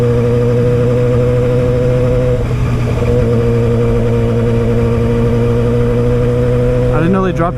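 A motorcycle engine drones steadily while being ridden on a road with snow around, holding a near-constant pitch with a short throttle blip near the end; the rider talks under the engine noise.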